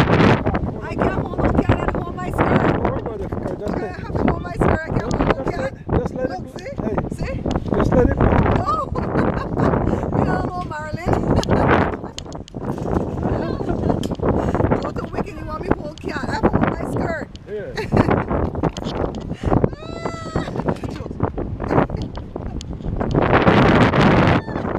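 Strong wind gusts across a microphone outdoors on a small street, a loud, rumbling buffet that swells and drops throughout while someone talks over it.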